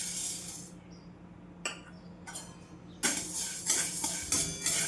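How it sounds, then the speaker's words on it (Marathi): A spoon scrapes and clinks against a pan while sago pearls are dry-roasted, close and moderately quiet. The stirring comes in irregular bursts and grows busier toward the end. "तर साबुदाणा भाजून घेते."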